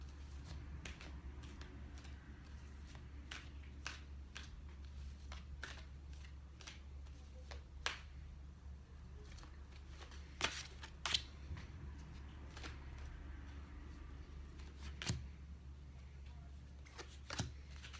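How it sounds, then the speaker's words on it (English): Earth Magic oracle cards are shuffled by hand in a quiet room, giving soft, irregular riffling clicks and snaps spread across the whole stretch over a low steady hum. "so we always pull cards from the Earth Oracle deck, which I absolutely love."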